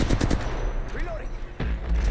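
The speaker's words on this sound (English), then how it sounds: "Gunfire." Rapid bursts of automatic gunfire in the video game Apex Legends, close and loud, with a short lull in the middle before firing resumes.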